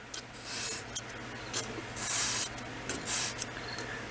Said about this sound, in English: Just draw it across the sandpaper. I mean, you go back and forth and hone it.